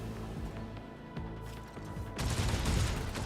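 Rapid bursts of gunfire over a dense, rumbling soundtrack in the video game Rogue Trader, growing louder and busier toward the end, with no talking.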